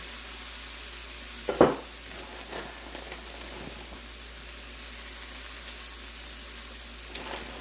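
Hash browns frying in a pan give off a steady, even sizzle and hiss, with a single brief scrape or stir early on and faint clinks later, all close by and with no talk.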